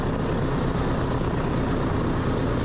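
The propeller engines of the B-29 Superfortress "Doc" drone steadily in flight, a loud, dense, unbroken roar heard from inside the aircraft with no talk.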